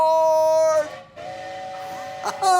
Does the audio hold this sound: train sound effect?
yes